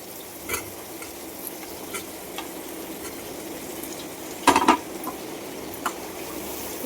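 Vegetables sizzle and fry with tomato in a pan, a low steady crackle under occasional utensil taps and a brief burst of stirring scrapes near the middle.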